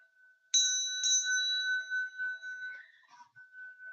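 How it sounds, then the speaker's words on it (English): A hand bell used in Tibetan Chod ritual practice, struck once and then again so that a bright sustained metallic ring hangs and slowly fades, close and clear in a quiet room. "a bell"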